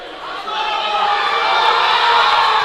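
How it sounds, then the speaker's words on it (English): A crowd at a powerlifting regional championship shouts encouragement to a lifter, a mix of mixed voices swelling and holding steady as a continuous cheering wall. "Shouts from the crowd of encouragement."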